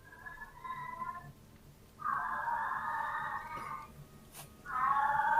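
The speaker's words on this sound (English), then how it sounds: "Listen to him in the background. The cats." A pet cat meows repeatedly in a room, three drawn-out, insistent calls of rising length with short pauses between them, fairly clear and alone.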